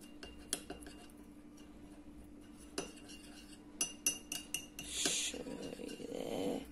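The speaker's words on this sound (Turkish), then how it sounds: "Biraz karıştırıyoruz arkadaşlar bunları şimdi." A teaspoon stirs a homemade remedy mixture in a small dish, giving a series of light metallic clinks and scrapes, faint and close, with a brief louder rattle near the end.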